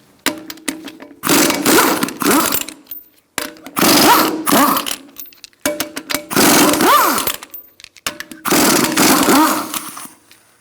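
An impact gun with a 19mm socket removes the wheel from a Honda CR-V. Four loud bursts of rattling hammering, each one to two seconds long, are split by short pauses in a quiet garage.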